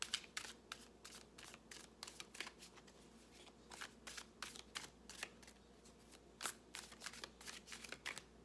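Playing cards shuffled repeatedly during a tarot-style reading, with crisp riffling bursts and soft slaps in an irregular rhythm, close and fairly quiet, with no talking.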